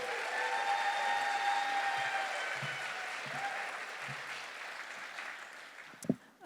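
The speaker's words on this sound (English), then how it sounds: "You guys give a big round of applause for Diana and Rebecca." Audience applause in the Fox Theater, a broad sustained wash of clapping that slowly fades, with faint tonal sounds running beneath and a sharp knock near the end.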